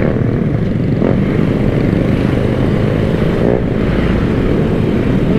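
Loud classic motorcycle exhausts from a group of retro bikes on a highway ride, a steady, broad engine roar running throughout without a break.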